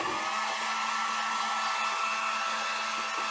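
A hair dryer roars steadily and close while drying paint on a wooden craft shelf sitter, a continuous airy whine with no pauses.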